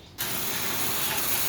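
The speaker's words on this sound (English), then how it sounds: "So I'm spraying it down there as well, giving a good rinse." A water spray hose rinses down an old Toyota 7M-engined car, a sudden loud, close, continuous hiss of water hitting the body.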